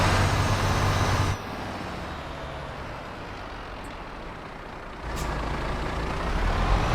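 Heavy truck engine in Euro Truck Simulator 2, a loud steady diesel drone that drops in level partway through, then rises again as the truck pulls away, with no talk.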